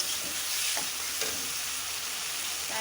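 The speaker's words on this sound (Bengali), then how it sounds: "সব মশলা অ্যাড করে এখন ভাজি করে দিচ্ছি, একটু কষিয়ে নেব" Spiced boiled potatoes fry in a pan under a constant bright sizzle, with occasional stirring scrapes. The sound is close and even, and nobody speaks.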